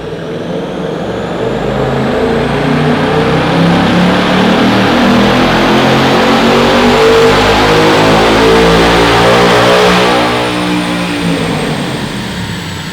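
A Ford Mustang S650 fitted with a cold air intake revs hard on a dyno with the hood open, a loud sustained engine roar climbing and holding high for several seconds before easing slightly, with no talk over it.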